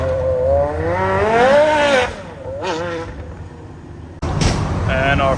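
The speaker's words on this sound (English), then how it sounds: "MC12 Corsa on the road." A Maserati MC12 Corsa out on a public road, its engine tone swelling and falling as it passes, then a sharp, loud burst near the end, with voices mixed in.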